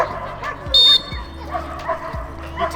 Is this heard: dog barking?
yes